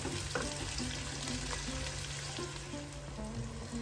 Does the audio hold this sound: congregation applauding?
no